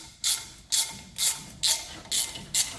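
A hand ratchet with a 12mm socket turns a bolt during a front wheel bearing replacement on a 2009 Toyota Tacoma 2WD, giving six evenly spaced bursts of ratcheting clicks, close and fairly quiet.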